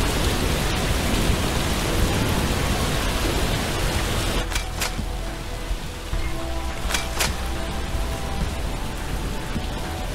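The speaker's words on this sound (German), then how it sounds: "ist der Regen laut" Heavy rain pours down loudly and steadily during a zombie survival game, a dense continuous hiss that fills the whole clip with no talking.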